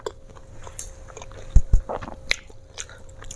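Crispy fried potato in a flour coating being bitten and chewed close to the mic, a couple of sharp crunches followed by softer chewing, with no talk.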